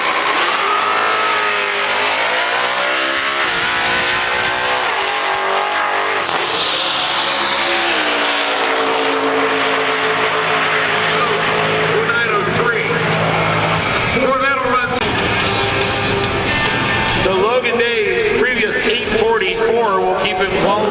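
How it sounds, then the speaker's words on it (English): A Corvette and a Mustang drag racing side by side at a Texas street-car event, engines roaring loud and close with rising revs and tire squeal, heavy under a track announcer's commentary. "Corvette left side, Mustang."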